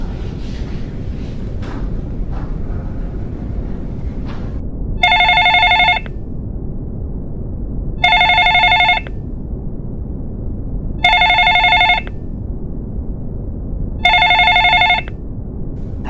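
A telephone rings in four evenly spaced electronic bursts, each about a second long, over a low background rumble.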